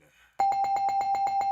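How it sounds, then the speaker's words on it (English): A ring bell sound effect from a wrestling review show, for a match between Nikita Lyons and Luna Vachon: a loud, close bell struck about eight times in a fast, even rhythm, with no talk over it. "got to give it the bell."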